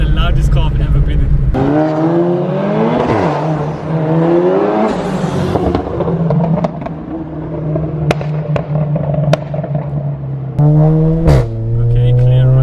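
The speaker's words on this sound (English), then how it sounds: "This is like the loudest car I've ever been in." A 420bhp Seat Leon Cupra revs loudly from inside the cabin, its engine rising and falling in repeated sweeping blips with sharp popping crackles between them, while voices talk over it.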